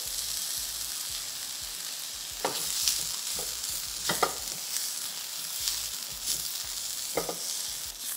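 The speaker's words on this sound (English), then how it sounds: "I'm gonna let this saute for about 2 minutes" Curry powder sautéing in a pan for a vegetarian breadfruit curry, giving a steady soft sizzle broken by several scraping stirs of a spoon, close and fairly quiet, with no talk.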